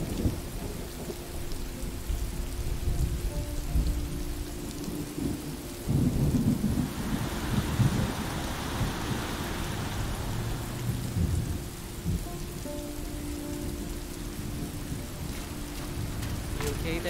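Steady rain with rolling thunder in the video game Road 96, a continuous wash of rainfall with low rumbles swelling through the middle, heard alone without talk.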